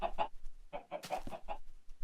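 Chickens cluck in the video game Minecraft, a handful of short, close clucking calls in quick bursts with brief pauses between them.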